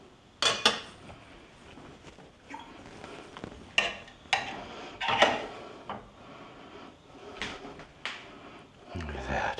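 Sausages and gravy are plated for bangers and mash, with cutlery and a serving spoon clinking and scraping against dishes in several sharp, separate knocks and clatters spread over quiet kitchen background.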